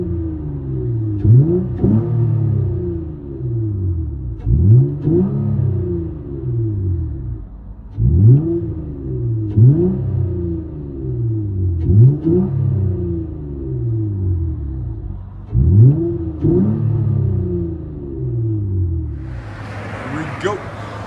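A 2014 Honda Accord Coupe with a 3.5L V6 and muffler delete revs repeatedly, six loud close blips that rise sharply then fall away in a deep, throaty rhythm, idling between each.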